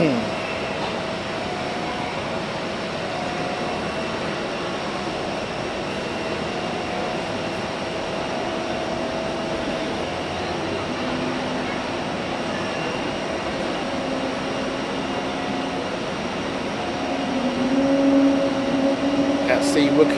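Jet aircraft with Pratt & Whitney engines at Hamburg Airport give off a steady, broad engine roar that hangs at even loudness and swells slightly near the end.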